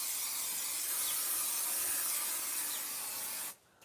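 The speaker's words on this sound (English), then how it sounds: "I need to spray these areas again." Spray paint can hissing steadily at close range while recoating areas inside a van conversion, a continuous broadband spray lasting several seconds before cutting off abruptly.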